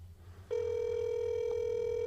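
A telephone ringback tone on an outgoing call to a politician's office: one steady, continuous electronic tone that starts half a second in and holds, fairly loud, with a faint low hum underneath.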